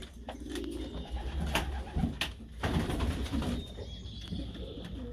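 Pigeons cooing inside a loft, soft repeated throaty coos from several birds close by, with faint shuffling and wing movement and no talking.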